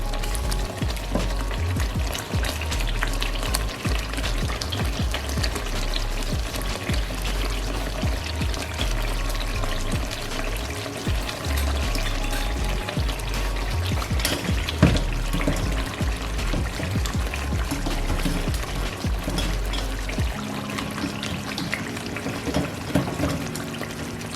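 Boiled chicken goes into hot oil in a karahi for karahi masala. A dense, continuous sizzle and spatter runs throughout, with a brief shift in the texture near the end.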